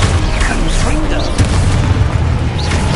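A Confringo explosive spell blasts in the video game Hogwarts Legacy. Loud, booming bursts rumble continuously for several seconds, and a voice speaks over the blasts.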